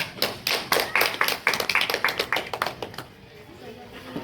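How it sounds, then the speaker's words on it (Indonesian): A classroom gives a short round of applause for a student group, with quick irregular claps that are fairly close and fade out after about three seconds, while soft voices murmur underneath. "Kita berikan aplaus untuk kelompok 4."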